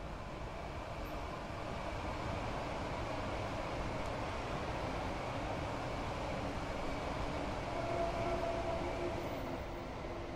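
Steady, continuous rumble of a train running on the Brighton Main Line in the video game Train Sim World 2, a constant broadband drone with a faint tonal whine, heard alone without speech.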